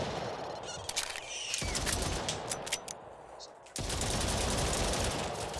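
Dual pistols fire in the video game Island 359 as a rapid, crackling string of sharp shots layered over game ambience, with a short lull before the noise returns at full level.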